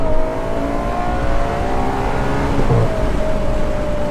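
A Ferrari accelerates on a road at about quarter throttle, a steady loud engine drone whose pitch climbs gradually and then shifts gear, heard throughout without talk.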